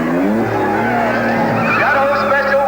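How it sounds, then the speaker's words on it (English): A 1950s race car roaring past on a racetrack, a loud, close engine note with a rising and shifting pitch and tire squeal as it passes. "Here comes the third car."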